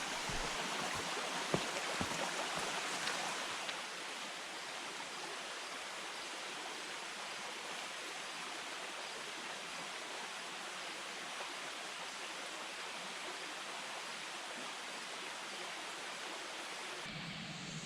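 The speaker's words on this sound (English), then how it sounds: "Got the creek right here as a water source" Faint, steady rush of a creek flowing beside a campsite in Virginia, a soft continuous babble with a few small knocks early on.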